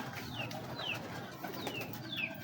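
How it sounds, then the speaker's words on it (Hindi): Big breeder pigeons, including a pure golden male, calling from a loft: a series of four short repeated calls at an even pace, close and clear over steady background hiss. "माशाल्लाह, प्योर कबूतर है।"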